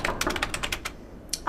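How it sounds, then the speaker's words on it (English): A woman types at her desk in a private office, the keys clattering in quick uneven bursts with a short pause before a few more strokes, close and clear. "A woman typing at her desk in a private office."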